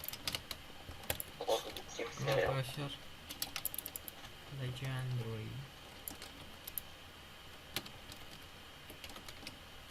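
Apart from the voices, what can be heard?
computer mouse and keyboard clicking and typing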